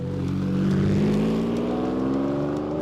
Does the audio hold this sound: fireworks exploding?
no